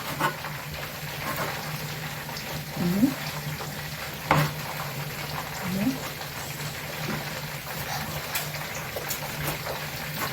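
Marinated chicken strips fry in a pan for crepe filling, a steady sizzle with bubbling and a few clatters of stirring.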